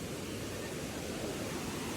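Steady broadband roar of rushing water from a waterfall at Bhudargad fort, dense and continuous with no breaks, heard alone without any voices.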